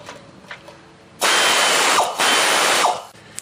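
A power ratchet whirs in two loud bursts of about a second each, backing bolts out of a water pump, with quieter handling noise before and after.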